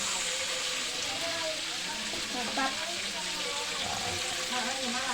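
Salted peda fish fries in hot oil with a steady, dense sizzle and crackle across the whole clip, with faint voices in the background.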